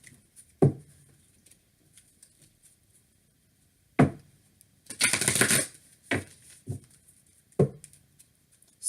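Tarot cards shuffle and tap in close, quiet spurts: isolated sharp card snaps with a dense riffling burst in the middle, with no talking.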